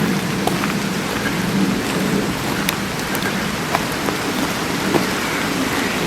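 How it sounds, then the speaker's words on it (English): Steady, dense rain pours down continuously in Congleton Park by the River Dane, a broad hiss of drops with scattered sharper spatters on nearby surfaces. "I chose to come up here when it's raining because I can hear the rain"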